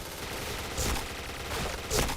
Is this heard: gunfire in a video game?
yes